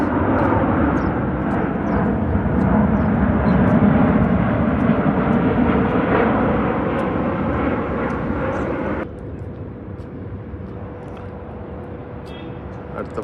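Airliners landing one after another at Dubai airport fill the air with a loud, sustained jet-engine roar that holds for several seconds, then drops abruptly to a quieter, steady hum.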